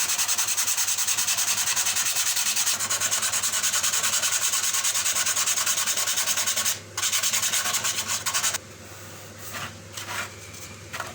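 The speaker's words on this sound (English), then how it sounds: "So using just some sandpaper," Sandpaper rubs back and forth over the wooden surface of a Ffestiniog third-class railway carriage, a steady close scratching that pauses briefly and then continues in lighter, broken strokes.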